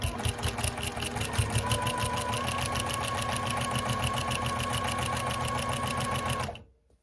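A sewing machine stitches a Christmas mug rug: a loud, close, steady mechanical whir with fast even needle clatter running unbroken for several seconds, then stopping abruptly.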